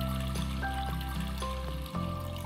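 Water pours into a pot holding soaked masoor lentils, a close steady trickle with a resonant rising tone as the vessel fills, with a brief break near the end.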